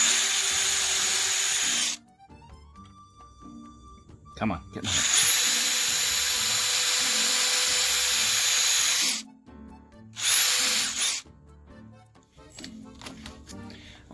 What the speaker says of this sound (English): I'm only going to drill one more hole.